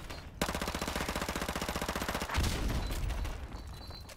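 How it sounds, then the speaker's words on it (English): Automatic gunfire in Call of Duty: Modern Warfare Remastered on Xbox One, a long fast rattling burst of evenly spaced shots, loud and close, giving way to a heavier rumbling blast and scattered shots afterward. "I'm just like shooting at everything now."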